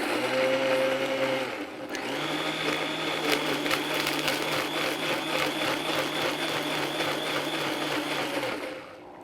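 A kitchen blender whirls spaetzle batter seasoned with salt: a short hum, a brief pause, then a loud, steady high-pitched motor drone with slight rattling that runs for about seven seconds before cutting off.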